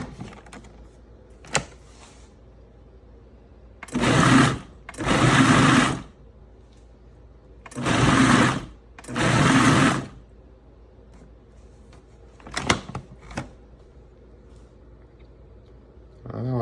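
A blender whirls fire-roasted chunky garden salsa in four loud bursts: two short pulses, a pause, then two more, with quiet kitchen clatter and a few clicks between them.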